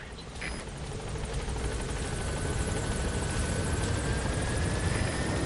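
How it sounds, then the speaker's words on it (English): Helicopter in the Metal Gear Solid video game, a steady loud rotor and engine drone that builds slightly and holds throughout, with no speech over it. "Helicopter."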